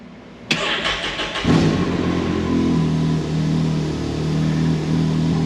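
A Can-Am Maverick X3 EVO R3 engine cranks and catches with a sharp burst, then settles into a loud, steady idle rumble up close, with no voices.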